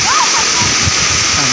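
Water pours loudly and steadily at the Hatichhara reservoir, a dense broadband rush like a small waterfall that fills the whole span, while voices talk faintly beneath it.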